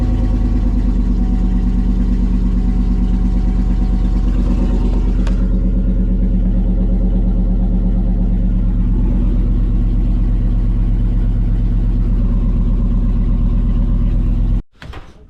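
Yukon Denali with low oil pressure, engine running loud and close with a deep steady drone that swells as the throttle rises, then cuts off abruptly near the end.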